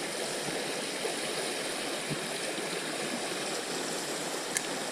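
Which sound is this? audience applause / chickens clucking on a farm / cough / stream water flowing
stream water flowing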